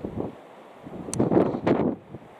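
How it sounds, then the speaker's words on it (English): Gusty wind buffeting the microphone on a cold walk in Findhorn, rumbling low and swelling in a few stronger gusts toward the middle. "The air is certainly fresh, cold, and very windy."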